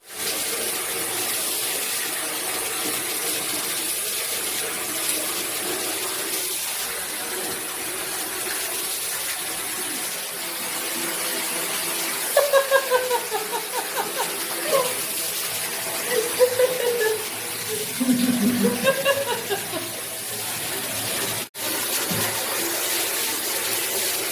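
A steady wash of running, splashing water poured over a puppy being bathed goes on throughout, with the puppy's brief higher-pitched whimpers breaking through partway.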